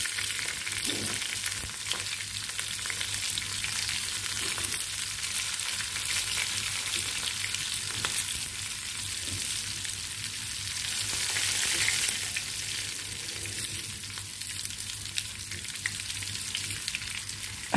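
Green chillies frying in oil for a fried chilli pickle, a continuous dense sizzle that stays even and close throughout, with occasional soft utensil clicks.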